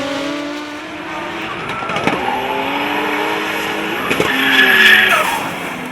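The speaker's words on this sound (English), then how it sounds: "Matt Lauder and the Blink Company 180SX took on Shane Giles in the A1 Homes S14." Nissan 180SX and S14 drift cars battling at a D1NZ drifting round at Hampton Downs, Waikato: loud roaring engines with long tire squeals and skids, close and continuous, rising in the final seconds.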